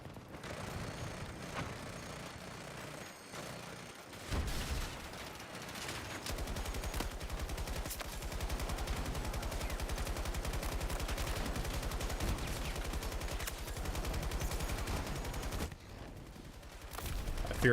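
Video game gunfire plays almost without pause, with rapid bursts of shots and bullets that run together into a dense, loud barrage, broken by a few short lulls.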